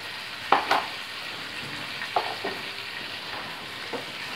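Chicken korma frying in a pan as garam masala is stirred in, with a soft steady sizzle and a few distinct scraping stir strokes, close and moderately quiet, no talking.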